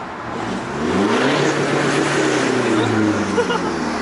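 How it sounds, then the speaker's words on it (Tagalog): Tuned Toyota Innova engine revving hard against the rev limiter, with a popping, crackling burble like popcorn, loud and close for a few seconds under background talk. "Kaya pag nire-rev siya yung parang popcorn"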